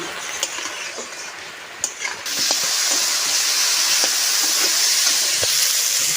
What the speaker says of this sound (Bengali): সজনে ডাঁটাটাও ভাজা হয়ে গেছে